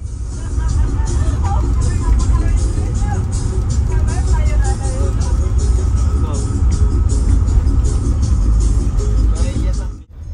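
Steady low rumble inside the cabin of a Pandawa 87 UHD bus cruising between Jakarta and Surabaya, a continuous engine and road drone with faint murmuring voices and small rattles underneath, no knocking or clattering.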